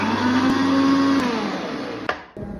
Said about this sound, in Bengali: তাড়াতাড়ি মিক্সারটা চালু করো।